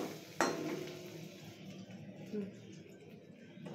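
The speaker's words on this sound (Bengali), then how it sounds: "মা ওই পিসটা ফ্রাই করার জন্য আর একটু বাটার দিল।" A paneer egg sandwich frying in butter in a pan, a sharp clank of the pan at the start, then a faint sizzle with light utensil sounds and quiet talk.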